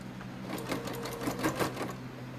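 A sewing machine stitches through thick velvet and Minky fabric, making a fast mechanical whir and chatter with a steady motor hum underneath, close and moderately loud.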